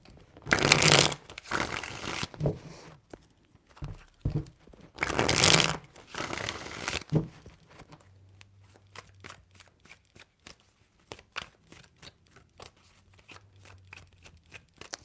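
Tarot cards shuffled by hand in two long, loud riffling bursts, then a run of crisp, close clicks and taps as the deck is handled and cards are laid down, with no talking.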